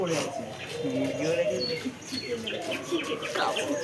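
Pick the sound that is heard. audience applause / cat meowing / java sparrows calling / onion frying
java sparrows calling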